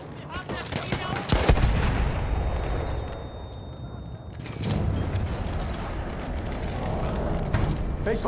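An MG 08/18 machine gun fires at Fort de Vaux in a game, loud close bursts that blur into a dense roar, with a short pause and then more sustained rattling under background battle noise.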